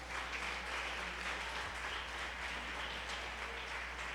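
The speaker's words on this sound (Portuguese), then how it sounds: "Aplaude a Jesus." A church congregation applauds together during a Portuguese-language worship service, a steady wash of clapping that holds constant throughout at moderate distance, with no talking over it.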